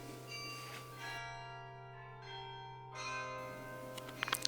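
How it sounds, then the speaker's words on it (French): Church carillon bells in Tourcoing ring in a steady sequence of sustained metallic tones over a low constant hum, with brighter struck notes near the end and no voices. "C'est ce carillon que nous allons découvrir."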